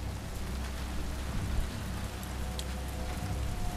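Steady heavy rain pouring during a storm in The Last Of Us Part II, a dense continuous hiss of drops pattering on surfaces with a low rumbling undertone and no voices.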